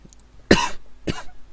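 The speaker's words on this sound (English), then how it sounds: "Bit of a cough." Two sharp, close coughs, the first louder and rougher, the second following about half a second later in a quiet room.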